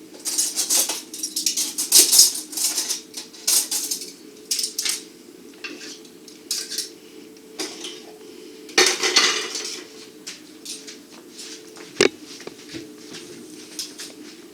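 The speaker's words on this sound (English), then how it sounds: "Here's our steak knives to cut the duck and our cutlery." Steak knives and metal cutlery clink and clatter in scattered bursts as a dinner table is set for a duck meal, close and fairly loud, with irregular chinks and scrapes and brief pauses between them.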